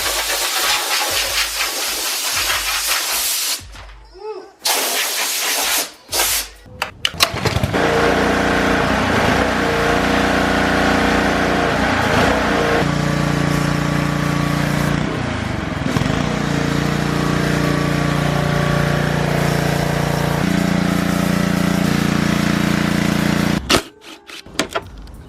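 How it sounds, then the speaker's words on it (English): A pressure washer sprays degreased new engine parts clean, giving a loud, steady hissing rush of water that runs nearly unbroken for about sixteen seconds after some brief bursts and pauses at the start, then stops abruptly near the end. "pressure wash this off really quick"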